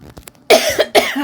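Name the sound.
cough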